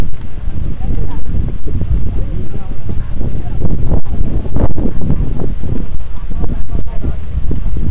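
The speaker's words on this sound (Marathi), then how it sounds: "वाऱ्याचा वेग देखील वाढलेला आहे" Strong wind roars steadily across an outdoor cricket ground during a tournament match, a loud continuous buffeting rush with gusty flutters on the microphone and voices underneath.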